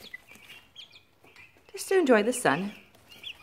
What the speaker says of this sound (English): I have my 6 laying little chicks over here, who are just nice and quiet